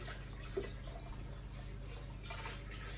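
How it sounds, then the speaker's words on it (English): Reef aquarium water for an eaReef Pro 900 tank is pumped back in through a hose, a continuous low gurgling flow with soft splashes, steady and close, with no talk. "now it's time to pump the water back in"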